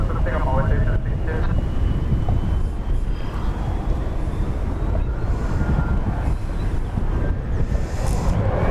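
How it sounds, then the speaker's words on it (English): An Emirates passenger plane on approach from Copenhagen, a steady broadband roar that holds a constant loudness throughout, with wind buffeting the microphone and a voice talking now and then. "Emirates flight 9967 coming in from Copenhagen"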